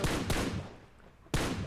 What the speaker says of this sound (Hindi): तब तक वेयर हाउस से मेरे को फायरिंग आती है, मेरे ऊपर फायर देखो